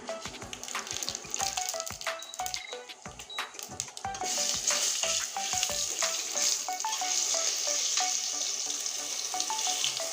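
Bay leaves, dried red chillies and cumin seeds crackle and sizzle in hot oil as a tempering, a steady bright frying hiss with scattered pops running continuously near the pan, no voices.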